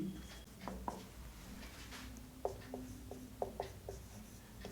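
Someone writes on a board during a graph theory lecture: a run of light scratchy taps and strokes, quiet and close, that come in short bursts with brief gaps and no speech.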